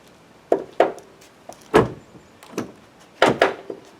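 Door catch on a Chevy Cruze clicking as the door is worked, giving a series of sharp, close clicks and thuds in an uneven rhythm, with no one talking.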